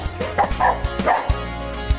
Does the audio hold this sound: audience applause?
no